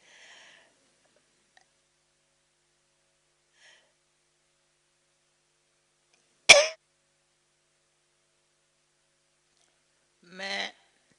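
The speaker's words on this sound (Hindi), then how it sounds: "मैं अभी क्या करूं खांसी का" Two separate single coughs from a woman break an otherwise quiet indoor setting, one sharp and loud, the other softer a few seconds later, with faint murmurs in between.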